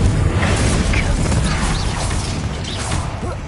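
A Confringo blasting spell explodes in a Harry Potter video game, a loud, dense roar of blast and debris that fills the whole moment and slowly eases toward the end.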